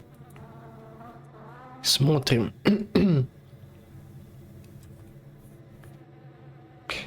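Housefly buzzing indoors, a faint wavering drone under several loud throat-clearing coughs and a short spoken word.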